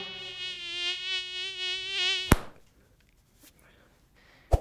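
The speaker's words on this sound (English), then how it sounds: "the mosquito. Not all mosquitoes are deadly, of course." A mosquito whines close by with a steady, high buzz that wavers slightly in pitch for about two seconds. It cuts off with a sharp smack, and a few quiet ticks and another sharp hit follow.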